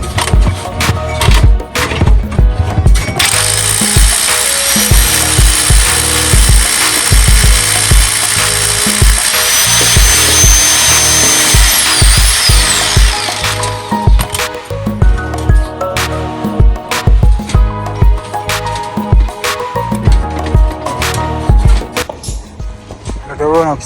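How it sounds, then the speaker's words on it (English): A power drill whines steadily for several seconds boring 3-inch-deep holes for slab reinforcing steel, then stops, followed by scattered knocks and clatter of work nearby. "So I'm drilling it 2 inches from the decking board, 3 inches deep and 8 inches apart."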